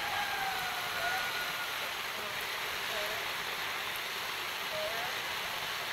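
Water is sprayed in a heavy shower onto a wax-proofed canvas shelter, making a steady, even hiss that holds without a break throughout.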